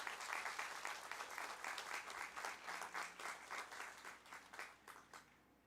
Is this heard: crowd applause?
yes